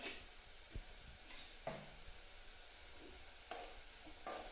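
Sliced onions fry with a spoonful of turmeric in a pan for okra curry, a soft steady sizzle broken by a few faint spoon scrapes and stirs.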